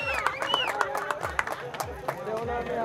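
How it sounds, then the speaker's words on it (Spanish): A crowd at a motocross trophy presentation claps in scattered bursts while a loudspeaker voice talks over the chatter. "¡Bravo! Aplauso enorme."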